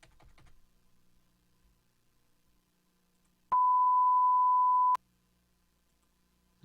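A generated pure sine tone sounds steady and loud for about a second and a half, alone after a few faint keyboard clicks.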